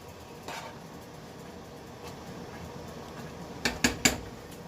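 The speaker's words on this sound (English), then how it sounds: "And now I'm going to be putting in my cranberry mixture, which is thickening up beautifully." Thickened cranberry mixture spooned into glass canning jars, a quiet room tone followed by three sharp clinks of a spoon against glass near the end.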